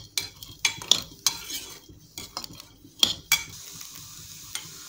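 Okra seeds dry-roasting in a pan while a spoon stirs them, with repeated sharp metallic scrapes and clinks at an irregular pace over a faint low sizzle.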